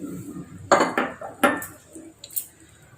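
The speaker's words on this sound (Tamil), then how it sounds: "இப்போ நம்ம மாங்காய் இதில் ஆட் பண்ணுறோம்" Raw mango pieces dropped into a pot of simmering mathi fish curry, heard as a few sharp metallic clinks and knocks of utensil against pot spaced over a few seconds, close and fairly quiet, with no talking.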